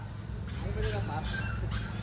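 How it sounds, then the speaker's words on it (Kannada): A puppy whimpers in short, thin, rising-and-falling cries after taking a tumble, heard close by beneath steady overlapping human talk. "ನಾಯಿ ಮರಿ ಬಿತ್ತಪ್ಪ."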